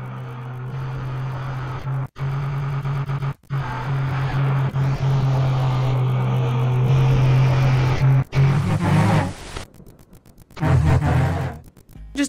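Entity noise from the horror video game Midnight Horrors: a loud, sustained droning roar with a strong low hum, cut by a few abrupt breaks before it surges again.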